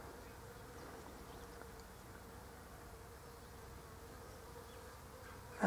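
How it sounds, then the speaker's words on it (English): Bees buzz steadily around an almond tree in full blossom outdoors, a faint, continuous hum spread evenly with no talk, ending in a brief louder bump. "And you can hear the bees, of course."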